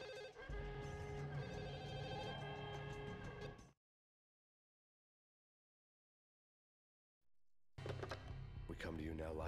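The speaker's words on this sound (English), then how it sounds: "I gotta answer the phone." A telephone rings in the Max Payne crime shooter game, a steady ringing tone lasting several seconds alongside voices, then a stretch of silence before sound resumes.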